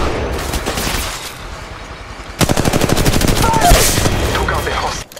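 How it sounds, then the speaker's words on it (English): Rapid automatic gunfire from the mobile battle royale game Apex Legends Mobile, loud and close, starting as sparse shots then breaking into a sustained burst of fast regular reports that cuts off abruptly near the end. "Shots fired at me."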